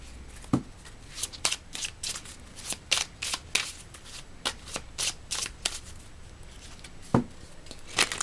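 A deck of tarot cards is shuffled by hand, producing repeated crisp riffling bursts and soft papery slaps at an uneven rhythm, close and fairly quiet, with no talk.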